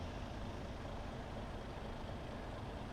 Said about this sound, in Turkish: Tırımızı çalıştıralım.